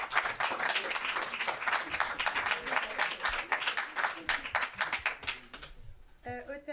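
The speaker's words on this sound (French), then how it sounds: "Beaucoup d'applaudissements pour Nubia, s'il vous plaît." Applause for Nubia at a Cheikh Anta Diop Day 2019 gathering: dense, steady clapping from a crowd that carries on for several seconds, then tapers near the end as a voice starts to talk.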